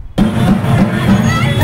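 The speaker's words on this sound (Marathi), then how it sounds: "राजकमल चौकात जल्लोष करण्यात आला" Festive crowd celebration at Rajkamal Chowk in Amravati, a loud burst of crowd noise kicking in abruptly after a brief silence and continuing as a steady, dense roar of voices and cheering.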